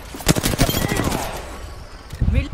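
Automatic gunfire in Apex Legends, close rapid bursts of shots in two clusters with a brief lull between, and a voice heard over the firing.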